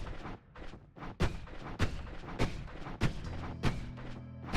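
Rapid wand shots in the video game Noita: a quick series of sharp, punchy blasts, about six evenly spaced over four seconds, over a busy background of smaller crackles.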